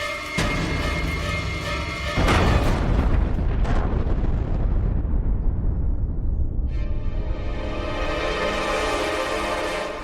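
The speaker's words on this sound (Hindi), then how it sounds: "ये देखिए हमने अपनी पुरानी तोपों को एकदम दुरुस्त कर दिया है। अब हम लोग इन्हें अपने युद्ध में प्रयोग कर सकते हैं। हमें इस तोप का परीक्षण करके दिखाओ।" Old cannon test-fired in a period drama, one loud deep boom followed by a long roaring, crackling rumble that fades, then a swelling dramatic tone.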